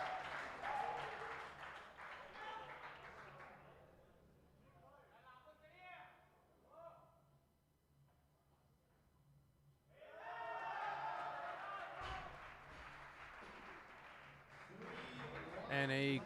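A crowd at a weightlifting meet applauds and cheers in bursts that fade and then swell again, heard from a distance while a commentator talks.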